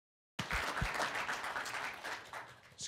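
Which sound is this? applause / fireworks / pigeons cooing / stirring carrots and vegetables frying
applause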